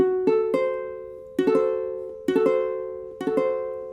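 A diminished chord played on a piano for ear training, sounded four times as three quickly rolled notes, each group ringing and fading, close and clear with no talking.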